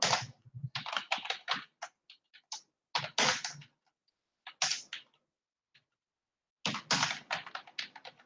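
Fingers type on a computer keyboard in irregular bursts of quick, crisp key clicks, separated by short pauses and heard up close with no talking.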